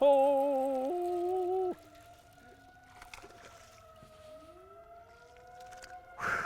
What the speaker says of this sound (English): that's the emergency sirens out there calling up the volunteer fire department, but it's also the emergency that Brent was